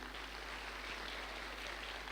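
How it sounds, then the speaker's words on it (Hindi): An audience claps in steady, continuous applause over a faint low hum, with no talk. "एक बार जोरदार ताली उनके लिए।"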